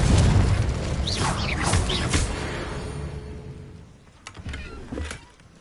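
A Confringo blasting spell goes off in the Hogwarts Legacy video game as a dense, loud blast with whooshing sweeps, fading over several seconds into quieter rumbling and a few soft pops.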